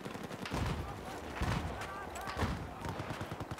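Enemy gunfire in Battlefield 4, a multiplayer Domination match, bursts in from several directions as repeated sharp cracks and rattling volleys at moderate loudness, mixed with game noise and a voice talking over it.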